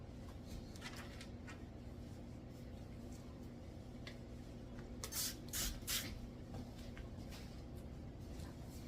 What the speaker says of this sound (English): I'm spraying her down with conditioner